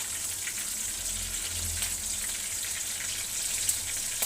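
Leafy greens frying in a pan, a soft, steady crackling sizzle with fine spitting hiss throughout, no voices.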